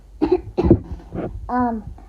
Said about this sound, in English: if y'all hear me cough, don't worry, I'm sick